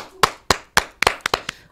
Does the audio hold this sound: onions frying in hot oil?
no